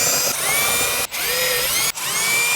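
A power tool whirs loudly while removing 10mm bolts inside a Subaru WRX BH8, in three close bursts broken by brief pauses.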